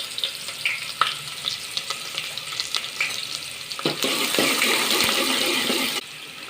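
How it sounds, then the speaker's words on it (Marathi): Mixed vegetables for idli sambar sauté in a hot pan, a steady close sizzle with scattered stirring scrapes, the frying growing louder and denser partway through before dropping off near the end. "या सगळ्या भाज्या मी परतून घेणार आहे"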